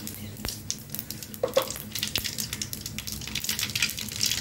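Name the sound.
mustard seeds spluttering in hot sesame oil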